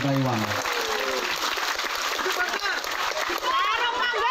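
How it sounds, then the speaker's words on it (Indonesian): Audience clapping for Banser Taiwan at a religious gathering in Taichung, Taiwan, a dense, steady crowd applause lasting throughout, with a brief voice at the very start. "Sekali lagi tepuk tangan untuk Banser Taiwan."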